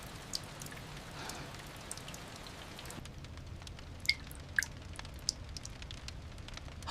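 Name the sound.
rain falling against windows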